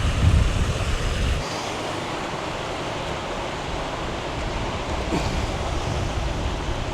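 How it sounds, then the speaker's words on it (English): Gusty wind buffeting an action camera microphone beside a reservoir on an exposed hill, a loud continuous rumbling roar that swells strongly in the first moment, then settles into a steady broadband rush. "there's a bit of a wind blowing. I don't know if this mic's coping in the wind"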